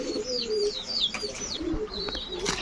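Giribaz racer pigeons, a big-headed green-necked pair among many birds, coo repeatedly at close range, their low throaty calls overlapping with bright chirps and a few wing flutters, with no talking.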